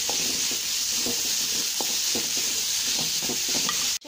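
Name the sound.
radish being sautéed in a pan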